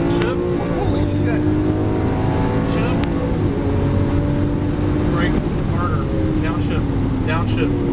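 A Lamborghini Aventador on a race track: loud, close engine drone climbing in pitch and dropping at gear shifts, with wind buffeting and a voice talking over it.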